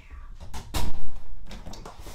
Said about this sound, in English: I'm going to close the door of my office.